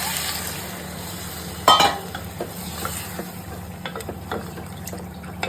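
Water poured into a sizzling pan of dry sea fish curry with vegetables, a brief splashing burst followed by soft bubbling, stirring and scattered ticks close by.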